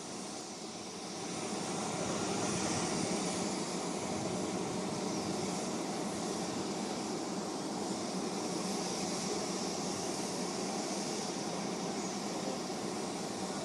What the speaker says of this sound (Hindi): राफेल विमान जो कि बहुमुखी ट्विन जेट एक लड़ाकू विमान है